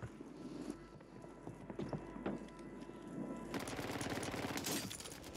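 Rapid gunfire in Warzone 3 (MW3), likely an MTZ 762 rifle, crackling bursts of shots over ambient game noise, getting denser and louder toward the end.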